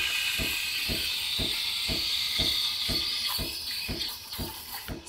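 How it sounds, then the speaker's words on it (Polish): An espresso machine steam wand frothing 300 ml of milk in a 600 ml jug for cappuccino gives a steady, loud hiss, with a regular rhythmic knocking underneath and the tone shifting slightly toward the end. "Zobaczmy, czy ten ekspresik uciągnie dzbanek 600, czyli 300 ml mleka."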